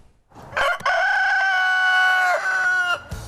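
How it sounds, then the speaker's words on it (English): A rooster crows once, loud and close, a long drawn-out call on a hatchery farm in Sebastopol that keeps over 300 chickens, with brief clucks around it and no speech. "This bio-friendly hatchery sits on 5+ acres and is home to over 300 chickens."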